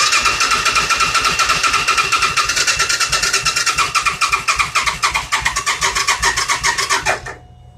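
An old junk engine cranks over hard and fast with a rapid, steady rhythm, sputtering and popping as it tries to catch on a weak battery, then cuts off near the end; loud and close, with no talk.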